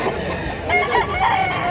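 A rooster crows at a poultry market in Mantalungon, Cebu, where chickens are being sold, a short call with clucking amid market background noise.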